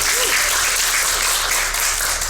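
Audience at a collectors' talk celebrating an institution's fifth anniversary, applauding and cheering in a steady, dense clatter of claps for a couple of seconds.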